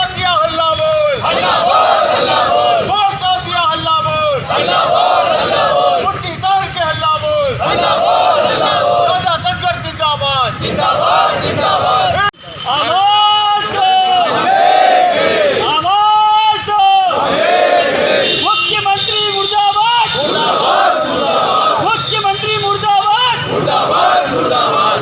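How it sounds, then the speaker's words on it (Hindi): Striking government employees chant slogans at a protest outside an old district collector's office in Madhya Pradesh, loud rhythmic group shouting in repeated bursts from a close crowd, with a brief drop midway. "हड़ताली कर्मचारियों ने पुराने कलेक्टर कार्यालय में नारेबाजी कर सरकार के खिलाफ प्रदर्शन किया।"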